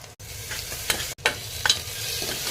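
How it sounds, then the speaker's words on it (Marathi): Onions fry with ginger, garlic and green chili paste and curry leaves in a hot pan, a steady sizzle broken by stirring scrapes and brief clinks. No voice is heard. "कांद्याला भाजूया लाल होईपर्यंत."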